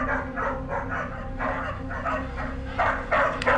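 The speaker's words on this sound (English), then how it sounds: "So here is the video of the dogs being tormented by whatever it is." Several dogs bark in repeated bursts that seem to be tormented by some unseen presence. The barking is moderately loud but a little distant, and it sits over a steady background hum.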